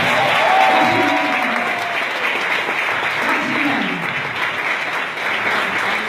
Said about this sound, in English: give my volunteers a round of applause